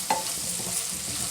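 Chicken pasta ingredients sizzle and fry in a pan while a utensil stirs them, giving a brief scrape over a steady crackling hiss.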